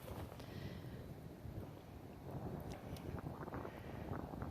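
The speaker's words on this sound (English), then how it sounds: "the wind picked up again" Steady wind buffeting an outdoor microphone, a continuous loud broadband rush with gusts that swell and ease, heard alone with no talking.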